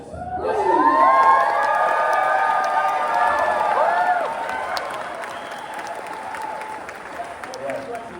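Studio audience at a talk-show chat applauding and cheering, a loud burst with whoops and shouts that rises in the first seconds, holds steady, then eases into softer sustained clapping under background voices.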